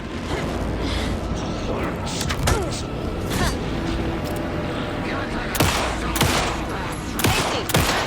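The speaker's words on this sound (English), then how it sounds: "Shoot him to pin him down." Gunfire in the Alan Wake 2 video game: several sharp, loud shots ring out at irregular intervals over a dense, noisy game soundscape, while characters call out to each other.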